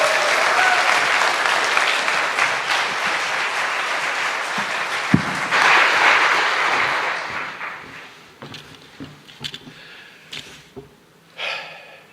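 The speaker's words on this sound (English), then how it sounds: "could we just have a round of applause for all the folks who make this happen?" A church congregation at a Sunday morning service claps in sustained, dense applause for about seven seconds, then it thins to scattered claps and murmurs.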